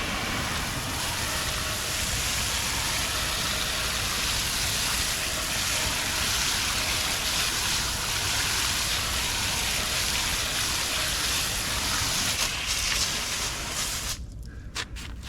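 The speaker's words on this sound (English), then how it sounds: "let's go ahead and rinse" Water sprays steadily onto car wheels during a rinse after cleaning, a continuous broadband hiss that holds nearly unchanged for about fourteen seconds and then cuts off abruptly near the end.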